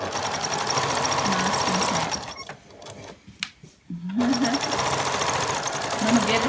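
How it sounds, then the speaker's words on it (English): Sewing machine stitching human hair together between strips of sticky tape, a loud close mechanical whir with rapid rhythmic needle ticks, stopping briefly mid-clip before resuming, with voices talking over it. "she's just sewing right now my hair together with my daughter's hair in a line in between the two bits of sticky tape"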